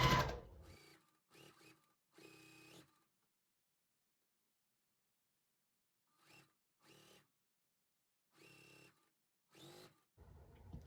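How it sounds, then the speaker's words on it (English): Sewing machine stitching rows of a sunflower quilt block, heard in short separate bursts of steady mechanical whirring with silent pauses between runs, close and clear. "we'll just keep sewing row by row"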